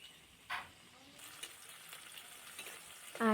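Chillies and onion frying with chopped tomato in a pan on a gas stove, a faint steady sizzle with a couple of brief louder stirring bursts, close by and without speech.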